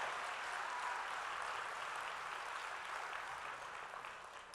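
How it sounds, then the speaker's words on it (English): An audience applauds a winter drumline performance at a city event, a dense, steady wash of clapping heard from a distance that holds level and then begins to taper toward the end. "let's have another round of applause for the Great Oak Winter Drumline performing their show"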